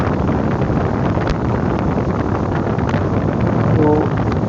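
A repaired stand fan blows strongly, making a steady, broadband rush of air close to the microphone that holds level throughout, with no talking.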